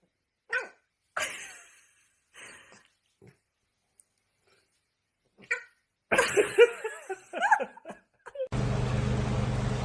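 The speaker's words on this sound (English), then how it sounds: "This is my dog Duck" A dog makes a handful of short, separate barks and yelps with gaps of silence between them, followed by a denser burst of yapping and then a steady noisy hum at the end.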